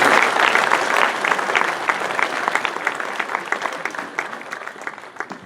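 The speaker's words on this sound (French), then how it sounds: "Il faut l'applaudir." An audience applauds a medal recipient at a town New Year's ceremony, the clapping steady at first and then thinning out and growing softer toward the end.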